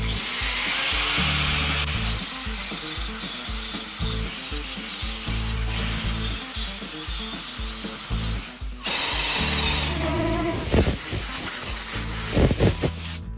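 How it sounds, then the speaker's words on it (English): Flap wheel on a grinder working the metal of a car's rear crossmember during rust repair, a continuous loud abrasive rasp with a steady high whine running throughout, close and without talk. "I switched over to a flapper wheel"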